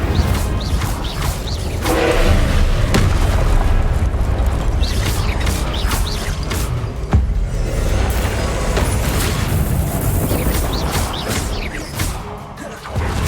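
Spell effects from the Incendio fire spell in Hogwarts Legacy, a dense, steady roar of whooshing flame with repeated booming impacts and crashes that stays loud from start to finish.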